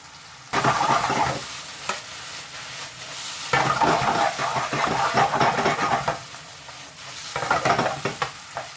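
Onions and spices fry in a pan, loud close sizzling that comes in several bursts of stirring with short quieter gaps between them.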